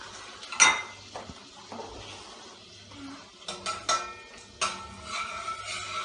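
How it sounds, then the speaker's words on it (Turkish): Tomato sauce stirred in a pan in a home kitchen, a spoon clinking and scraping against the metal in irregular bursts, close and moderately loud, with occasional clatters and no talking. "Evet şimdi domatesini mi döktün? Evet karıştır şimdi biraz."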